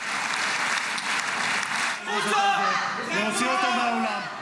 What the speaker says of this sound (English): Stopped repeatedly with applause.